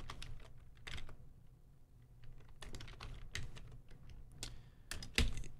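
Typing on a computer keyboard, close and clear, in irregular bursts of quick clicks separated by short pauses, with one sharper keystroke near the end.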